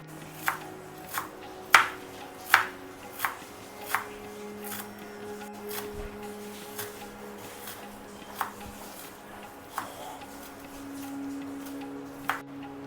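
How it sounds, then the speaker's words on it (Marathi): A knife finely chops coriander for paneer bhurji on a cutting board, producing about a dozen crisp, close taps, quick and clustered at first and then more spaced out, with no talking. "आपण घेतलेली कोथिंबीर ही अशी बारीक चिरून देखील घ्यायची"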